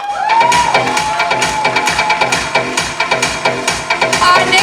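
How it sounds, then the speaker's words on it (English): Applause from an award-ceremony audience for Shahid Javed at Women Icon 2020, steady clapping with a few cheers and a sustained tone running underneath. "A round of applause, everyone, for Shahid Javed"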